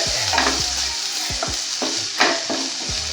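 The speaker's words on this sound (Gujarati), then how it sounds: "ચલો આને બી મિક્સ કરીને ફ્રાય કરી લઈશું થોડીક વાર માટે." Finely cut green chilies stir-fried in a pan for Maggi noodles: continuous close sizzling broken by repeated scraping strokes of a spatula, roughly one every half second, with no talking.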